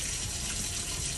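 Hot water runs from a kitchen tap in a steady, close gushing stream with no talking.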